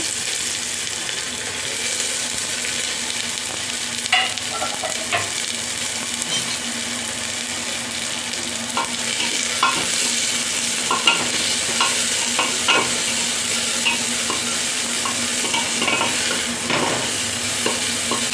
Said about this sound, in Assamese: পিঁয়াজখিনি ভাজি ল'ম।